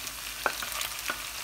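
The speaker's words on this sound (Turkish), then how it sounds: "Şimdi soğanımızın içerisine balığımızı tencereye indirelim." Canned tuna, drained of its oil, sizzles as it is stirred into fried onions in a cooking pot, giving a steady hiss with a few soft scraping clicks.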